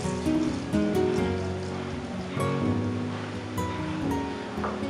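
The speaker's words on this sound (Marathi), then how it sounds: "राई आणि जिरे तडकायला लागला" Mustard seeds and cumin crackle and splutter in hot oil in a pan, a dense continuous sizzle with scattered pops, fairly close and steady throughout.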